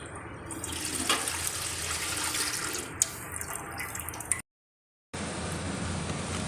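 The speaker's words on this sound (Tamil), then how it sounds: "பபிள்ஸ் நிறைய வர ஆரம்பிச்சிருச்சு" Sugar syrup boiling in a pan, a soft bubbling, watery burble close by with a few small clicks, broken by a brief silent gap before the bubbling resumes.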